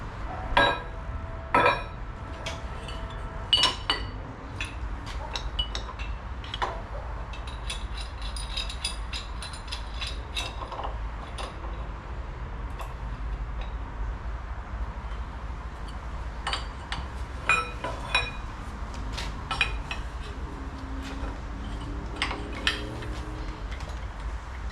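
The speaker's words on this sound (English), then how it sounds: "the set I've got are a bit broken, so we're going to have to stack some pipes together" Metal pipes are stacked together during maintenance on a Dingo 950 mini skid steer, making sporadic light metallic clinks and taps close by over a quiet background.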